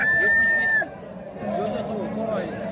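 Rooster crowing at a Tashkent poultry market, one sustained, strained crow lasting under a second, followed by market chatter and other bird noise in the background, with people talking nearby.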